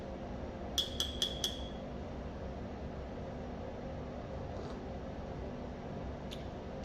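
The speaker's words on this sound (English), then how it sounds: "In good practice, always stir your espresso." A spoon clinks against an espresso cup four times in quick succession, bright and close, then a couple of faint later taps over a steady background hiss.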